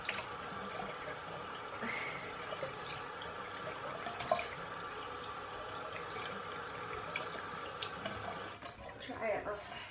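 Water from a tap runs steadily while a lip scrub is rinsed off at a sink during a makeup routine, with a continuous splashing wash throughout and a brief shift near the end.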